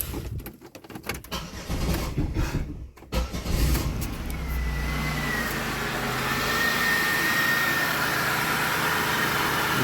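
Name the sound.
car engine starting and running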